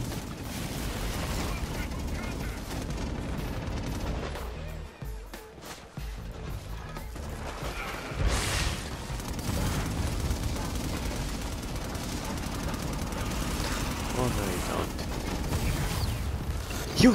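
Continuous gunfire and combat noise in the video game inFAMOUS Second Son, rattling shots blended into a dense, loud din of game effects, with talk over it.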